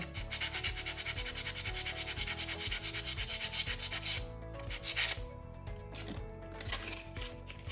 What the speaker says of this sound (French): passer plusieurs fois du papier 320 jusqu'à ce que vous ayez le résultat que vous voulez